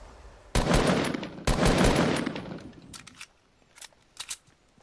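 Gunfire crackles in an online duos shooter match, two loud rapid automatic bursts followed by fainter scattered shots trailing off in the distance.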